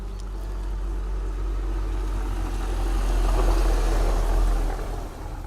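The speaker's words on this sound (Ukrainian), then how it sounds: "Зараз машина прийде" A car's engine rumbles low and steady nearby, swelling louder as it approaches and then tapering off at the end.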